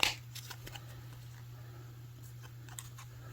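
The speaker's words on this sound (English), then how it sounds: "And I'm just going to take it all off the card." Silk cording with a wire needle being unwound from its card: soft papery rustles and light ticking clicks over a low steady hum, quiet and close.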